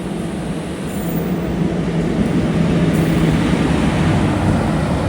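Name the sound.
Eranad Express passenger train passing through station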